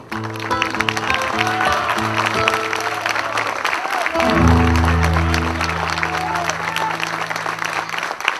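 Audience at a folk music festival breaks into sustained applause, loud and dense clapping over several seconds, with music playing underneath and a rise in intensity midway.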